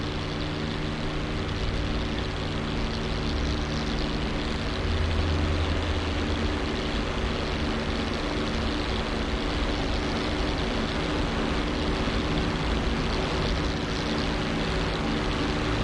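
BN-2 Islander twin propeller engines droning loudly at takeoff power in a flight simulator game, a steady, dense buzzing hum with tonal engine harmonics and no voices, holding constant throughout.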